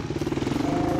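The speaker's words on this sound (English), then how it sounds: "Carl hands the bike back to Chris, who heads out for his second lap" Honda race motorcycle at the Taupo 4-hour endurance event, engine droning steadily and loudly at close range, with a rhythmic pulsing tone that holds for about a second.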